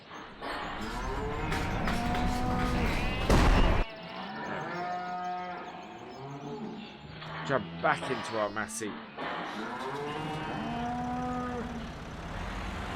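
Cows moo repeatedly in Farming Simulator 17, several long low calls overlapping, while someone talks over them and engine rumble hums underneath.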